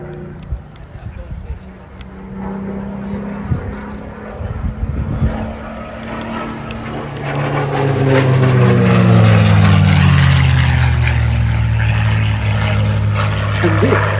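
A CA-18 Mustang Mark 21, Australian Commonwealth Aircraft Corporation built with a Packard Merlin engine, passes at an airshow, its engine drone swelling loud with a falling pitch sweep as it flies by, while a commentator talks over it.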